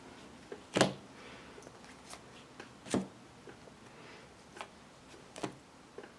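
Tarot cards being shuffled by hand, heard as a few sharp riffling snaps spaced irregularly with quiet card handling in between, close and fairly soft.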